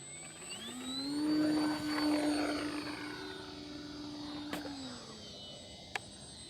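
An XFly GlaStar RC airplane with flaps deployed takes off from pavement at sunset, its electric motor and propeller whine rising steadily in pitch, swelling loud, then easing and holding as the plane pulls away.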